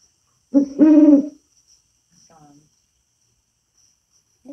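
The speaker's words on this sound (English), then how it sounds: "Oh, you can hear it now." An owl calls once nearby with a clear, tonal hooting phrase, followed by a fainter, more distant hoot against a quiet night background with a thin insect buzz.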